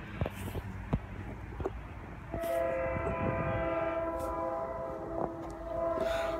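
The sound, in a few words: F-40 locomotive commuter train passing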